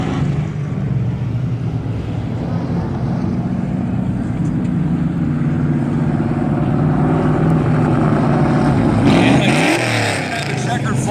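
Modified-class race cars roar past the finish line at Valley Raceway, a loud sustained engine drone with rising revs near the end, while an announcer talks over the noise.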